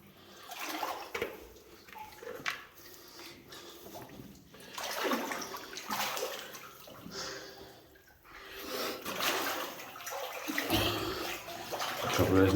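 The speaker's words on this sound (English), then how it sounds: "Wash my hands." Hands sloshing and splashing in the water of a flooded abandoned lead mine, irregular wet swishes and trickles rising and falling over several seconds, close by and moderately loud, with occasional breathing.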